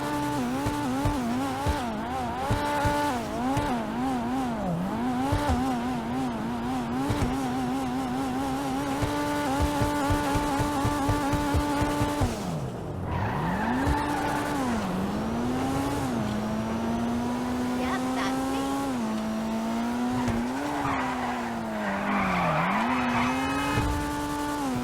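In GTA Online, a Karin S95 sports car revs hard through repeated gear changes, its engine whining up and down over tire squeal and skids, sustained and close without talk.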